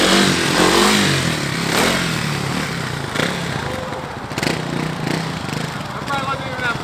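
A Kawasaki KLX 300 dual-sport dirt bike engine revs in first gear during wheelie practice, rising and falling in uneven surges under loud, close talk, with wind and clatter around it.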